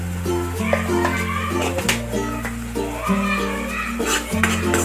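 Malvani homemade masala and turmeric are stirred in a pan for a wet cashew curry. A spoon scrapes and clinks steadily against the pan beneath a continuous, tonal musical background.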